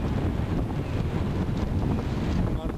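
Cold wind gusts through a near-empty city street in Iwaki, buffeting the microphone with a loud, continuous low roar that swamps everything else throughout.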